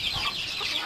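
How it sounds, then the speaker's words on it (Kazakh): Chinese silkie chickens cluck softly and continuously inside a coop, a steady low murmur of fowl sounds with no talking. "Аяқта тауықтар, қытайский шолқилар"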